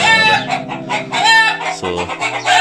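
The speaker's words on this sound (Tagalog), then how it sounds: "ayan po yung manok natin, mga bay" Backyard chickens kept for eggs in Saudi Arabia cluck loudly and continuously up close, with a rooster's crow mixed into the lively, overlapping calls.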